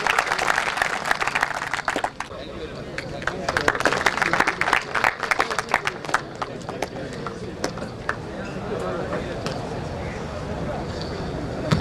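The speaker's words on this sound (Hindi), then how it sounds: "ये HSC वालों के लिए भी तालियां मार दें" A crowd at a safe-manhours celebration for a gas project claps for the safety staff, scattered sharp claps building into steady applause, with voices chattering underneath.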